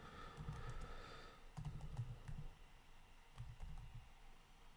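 Quiet bursts of keystrokes type a search on a computer keyboard, soft rapid clicks in three short runs separated by brief pauses, close but faint, with no talking.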